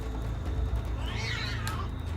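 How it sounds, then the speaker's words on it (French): A faint cat meow rises and falls over a steady low hum of background noise, one short call, near a warehouse. "c'est un chat."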